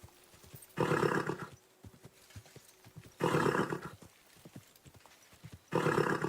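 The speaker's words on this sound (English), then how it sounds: "Easy, good horse." Horse in Kingdom Come: Deliverance 2 snorts or whinnies in three loud bursts, separated by quieter stretches with soft clopping thuds.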